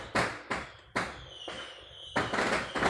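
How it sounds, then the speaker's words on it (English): Fireworks going off outside a home, heard as about five sharp, loud bangs at irregular intervals, each with a brief crackling tail, with no voices. "We have fireworks going on outside my home."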